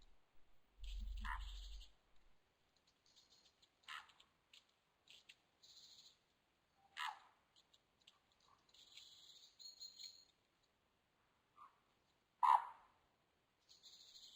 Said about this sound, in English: A few little croaks or bird calls in the ambience.